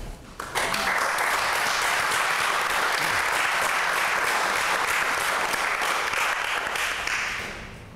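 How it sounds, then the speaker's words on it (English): Sustained applause from a crowd at a naturalization ceremony, starting abruptly, holding steady and loud for several seconds, then tapering off at the end. "Let's give everybody another round of applause."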